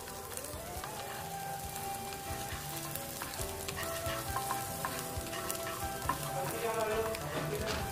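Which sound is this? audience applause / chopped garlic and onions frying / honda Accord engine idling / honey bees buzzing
chopped garlic and onions frying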